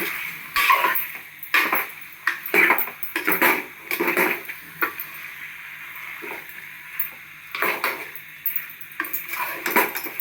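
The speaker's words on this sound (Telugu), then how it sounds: "చికెన్ వేసి మంచిగా కలిపెట్టాలి" A spoon scrapes and knocks against a cooking pot as chicken is stirred into a Telangana-style homemade curry, in irregular bursts of metallic clinks and stirring with brief pauses between.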